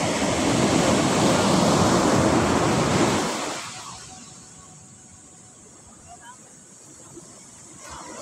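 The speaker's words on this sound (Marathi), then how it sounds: "समुद्राच्या लाटा" Sea waves wash onto Sagareshwar Beach at sunset, a loud broad surf roar for about three seconds that then drops to a quieter background hiss, with faint wind noise on the microphone.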